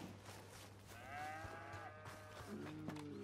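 Cow mooing on a farm in the video game Red Dead Redemption 2: two faint, drawn-out lowing calls, one long and one shorter, over a quiet background with a steady low hum.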